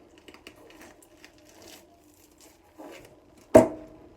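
A raw chicken wing is pulled apart at the joint. Faint, soft scuffs and rustles of handling lead up to one sudden, close crack-and-tear as the joint gives way near the end.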